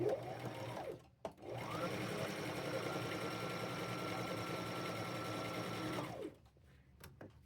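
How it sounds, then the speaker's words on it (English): A sewing machine running a gathering stitch straight down fabric, a close steady mechanical whirring hum that starts, pauses briefly, then runs for several seconds before stopping. "Now I'm just going to sew straight down the middle of this, all the way down till I think I got enough."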